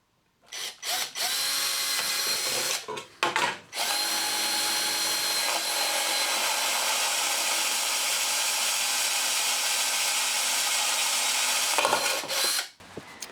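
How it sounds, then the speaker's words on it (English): A power drill with a small 5 mm bit bores pilot holes while an outdoor electrical socket is fitted. Short bursts give way to a long, loud, steady whine for about eight seconds, close up, then it cuts off. "So I'm just going to pre-drill these using a small drill bit,"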